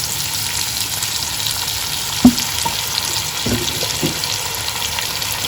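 Sweet chili sauce going into a hot frying pan, making a steady, close sizzle throughout, with one sharp knock and a few softer clinks partway through.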